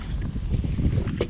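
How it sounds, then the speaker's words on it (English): Strong wind buffets a fishing jetty, a steady loud roar of rumbling gusts battering the microphone throughout. "I'm gonna honestly set up shop here because the wind's really strong"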